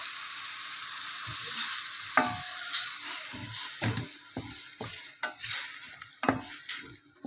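Lentil soup ingredients sizzling and being stirred in a pan, with soft frying hiss and intermittent scraping and clinking of a utensil against the pan, close and moderately quiet.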